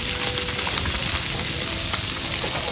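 Pork sizzles loudly and continuously on a hot Thai mookata grill pan, with dense crackling and popping fat throughout and no talking.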